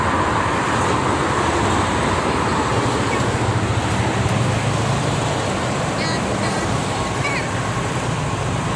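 Busy traffic on the Jakarta-Cikampek toll road, with buses among the passing vehicles, makes a steady dense roar throughout, and people talk faintly beneath it.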